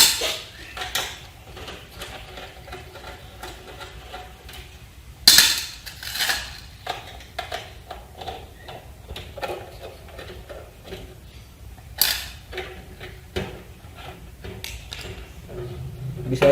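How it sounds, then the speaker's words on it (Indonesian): A flat-head screwdriver works on the casing of a PC power supply, making scattered close metallic clicks, scrapes and clatters with a few sharp knocks, while someone speaks softly now and then. "Kita akan membukanya dengan menggunakan obeng flash."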